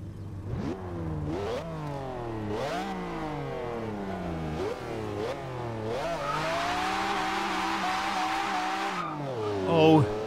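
A 1997 McLaren F1 GT in Forza Horizon 2 revs and climbs through repeated gear shifts, its engine note rising and dropping in a steady loud pattern, then holding a high, harsh scream before cutting off near the end.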